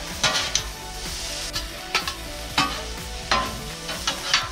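Rotisserie chicken for quesadillas gets stirred in a hot pan, a steady sizzle under a series of sharp scraping strokes that come roughly once a second, loud and close.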